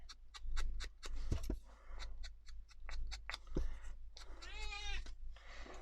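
An elderly pet cat meows repeatedly in short close calls, with one longer rising meow near the end, over a steady low hum and light tapping and rustling from paper crafting.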